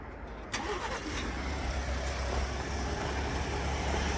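Car engine cold-starting with a brief crank that catches into a loud, steady idle, close up and continuous with no talk over it.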